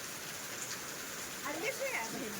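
The season's first rain falls as a steady, soft hiss, with voices talking over it in the second half.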